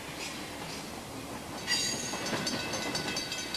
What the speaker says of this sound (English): Every day, freight and passenger trains traverse the rugged Sierra